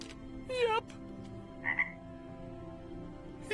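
A frog croaks in an animated film scene from Shrek 2, with a couple of distinct, throaty croaks standing out over a quiet film soundtrack, fairly close and clear.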